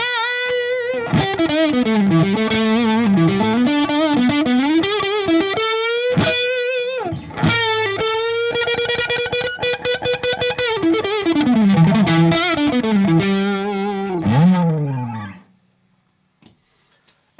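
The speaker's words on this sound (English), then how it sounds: "So here's the mini Tubescreamer." An electric guitar played through an Ibanez TS Mini Tube Screamer overdrive pedal rings out in loud, driven melodic lines and chords, then stops abruptly and leaves near silence for the last couple of seconds.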